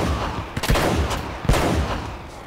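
Rapid bursts of gunfire from the video game Uncharted: Drake's Fortune on PS4, two louder volleys of quick shots about a second apart over a steady background rumble.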